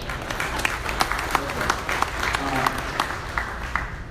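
Audience applause welcoming panelists at a venture capital panel in Indiana, a moderate, steady clapping from a seated crowd lasting several seconds, with individual claps standing out and a voice faintly beneath.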